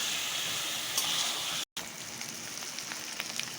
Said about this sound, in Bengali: মশলা দিয়ে আলুটা কষানো হয়ে গেছে